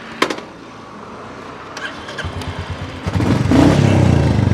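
A Royal Enfield Meteor 350 motorcycle parked on its side stand, heard close up as a few clicks and a brief cranking burst before the engine catches and settles into a loud, steady thumping idle.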